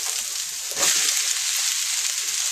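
Mushrooms dropped into a pan of onions and reduced wine set off a loud, steady sizzle with a brief burst of spattering as they land; the frying hiss runs on without a break.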